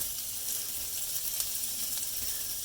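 Onions and bacon sautéing in a pan for scrambled eggs, giving a steady close crackling sizzle with faint clicks throughout and no talk.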